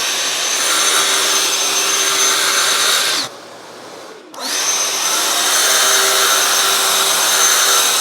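A power saw slices through a bathroom vanity panel in a workshop, a loud, steady roaring whine that cuts out briefly partway through before spinning back up for the second cut.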